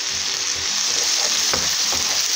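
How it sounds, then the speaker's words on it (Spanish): Red Peruvian aji colorado pepper fries in oil for a chickpea and spinach dish, giving a steady, close hiss and sizzle with a few soft stirring clicks and no voices. "hacerlo que dore, que se fría muy bien."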